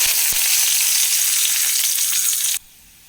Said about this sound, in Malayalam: വെളിച്ചെണ്ണ ഒഴിച്ചു വെളിച്ചെണ്ണ നന്നായി ചൂടായിക്കോട്ടെ ഉള്ളി അരിഞ്ഞതും വേപ്പില ഇട്ട് കൊടുക്കാം